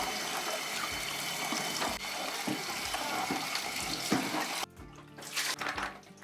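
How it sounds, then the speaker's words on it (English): Tap water running steadily over Fluval FX4 aquarium canister filter parts as they are rinsed in a sink, a continuous close splashing rush with small clunks of handled pieces, easing off near the end. "so I'm just going to rinse it out"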